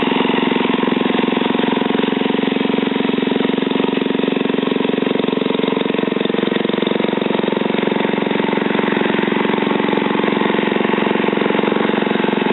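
A Wing Whacker II mud motor idles steadily at about 2,000 RPM while warming up, a loud, continuous, close engine drone with no speech over it.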